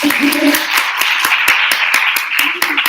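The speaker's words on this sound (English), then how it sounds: "can we all give our speakers a round of applause?" A small audience at a listening session gives the speakers a round of applause, distinct hand claps in quick succession, close and loud, with a voice talking over them.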